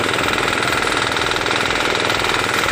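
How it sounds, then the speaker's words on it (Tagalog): Rice harvester engine running steadily in a paddy field during the palay harvest, a loud, close, continuous mechanical drone with a rough vibrating texture and no voices. "Makita natin yung makina na umandar na"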